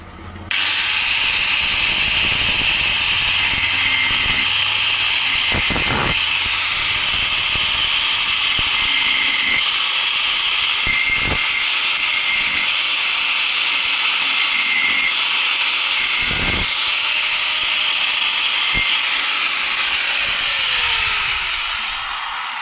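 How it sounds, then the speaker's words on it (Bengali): A refrigerator's outer metal panel is cut slowly with a power tool, giving a steady, loud high whine that runs almost the whole time, broken by a few sharp clicks. "তো দেখেন আমরা খুব সামান্যভাবে এখানে কাটবো সতর্কতার সাথে।"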